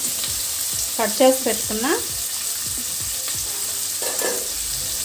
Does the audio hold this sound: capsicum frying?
yes